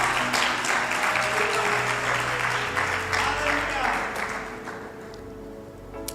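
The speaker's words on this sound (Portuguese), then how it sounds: "Pode aplaudir o Senhor bem forte" Church congregation applauding loudly and steadily in a worship service, a dense wash of clapping over sustained music and shouting voices that eases slightly toward the end.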